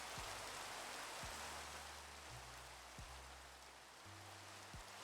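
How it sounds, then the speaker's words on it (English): Steady rain in Minecraft, a soft continuous hiss of falling drops with a few low thuds, even and fairly faint throughout, no voices. "Of course, it had to decide to rain."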